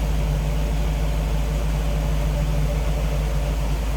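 A 1941 Chevrolet pickup street rod with a 350 engine idles steadily, a smooth low rumble held close and even throughout with no talk.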